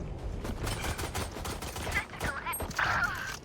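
Rapid gunfire from a Valorant match on the Icebox map, dense overlapping shots in quick succession with a voice speaking over the action.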